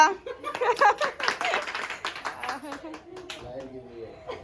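A crowd claps for a lamp-lighting ceremony at a family Pithori festival gathering. The clapping is a burst of scattered, close claps, mixed with overlapping voices and chatter throughout.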